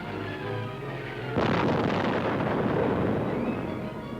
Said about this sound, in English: America shows off its latest tactical weapons at an Air Force base in Florida, starting with high-explosive rockets.